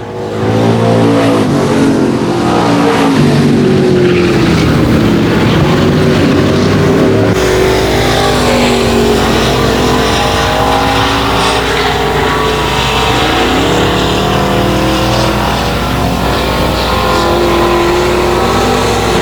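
Race cars roar around the oval at 281 Speedway, a loud, continuous engine drone with pitch swells as cars pass close by and accelerate through the laps, no talk over the noise.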